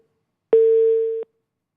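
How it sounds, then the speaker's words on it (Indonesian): A single electronic telephone line tone sounds while a phone connection to a political analyst is being restored. It is a clean steady beep of under a second, set against silence on either side. "kami sambil terus perbaiki hubungan sambungan telepon dengan pengamat politik Adi Prayitno"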